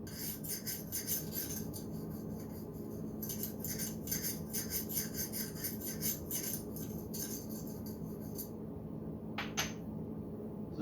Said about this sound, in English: This is where you would use a hone.